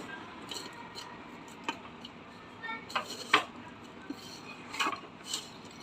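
A spoon scrapes and clinks against a pan while stirring a methi laddu mixture, with sparse metallic taps and clicks over a low background hiss.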